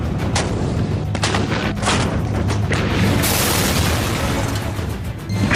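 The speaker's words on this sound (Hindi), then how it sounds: "इस बीच पाकिस्तान की तरफ से करगिल प्रशासन के शुरू में बने नए मुख्यालय पर तोप के गोले बरसे।" Artillery shells exploding in a mountain battle, with repeated heavy booms and sharp blasts in rapid succession over a continuous roar, loud and close, with no talk.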